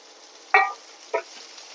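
Chopped onions fry with browned coconut, heard as three short, sharp scraping strokes of a spatula on the pan over a faint background, with no voices.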